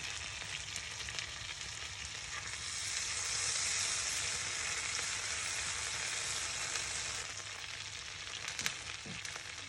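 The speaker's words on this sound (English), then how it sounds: "Put that miso butter in. Just melt it down gently." Miso butter melting gently in a hot pan, giving a steady, close sizzling hiss that swells slightly midway and carries on unbroken, with no voices.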